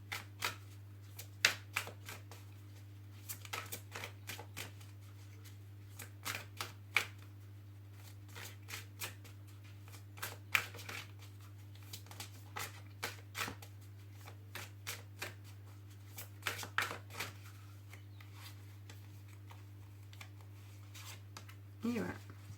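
Oracle cards are shuffled for a reading in a series of quick, crisp riffling bursts, each a second or so long, spread across the clip over a faint steady hum, with no voices heard.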